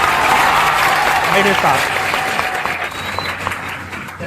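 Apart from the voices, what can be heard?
audience applause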